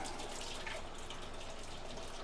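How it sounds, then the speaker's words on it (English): Water gushes steadily into a brewing kettle on a home brew day for a stout, a constant, fairly quiet rushing flow with no speech. "So I've got water flowing in here."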